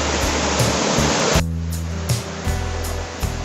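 A loud, steady roar of falling water at Chingri waterfall in Bandarban, Bangladesh, among slippery rocks, continuous and close, a dense rushing wash with no voices.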